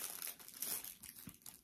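Plastic packaging from a Temu order crinkles close up as it is pulled open, with continuous rustling and crackling at a moderate level and brief sharper crunches.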